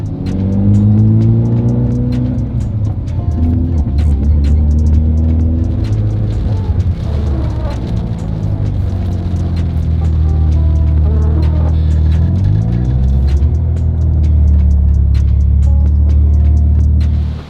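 A Mazda RX7 pickup revs hard and drives away from a cafe, its loud engine note rising and falling in repeated sweeps close by, then fading slightly as it pulls off.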